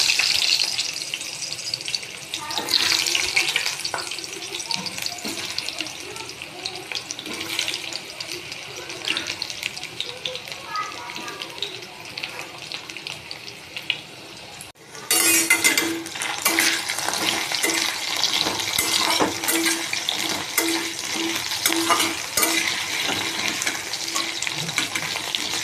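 Potatoes fry in about two tablespoons of hot oil, a broad hissing sizzle with crackle that runs throughout and grows louder and denser in the second half, with some faint background sound.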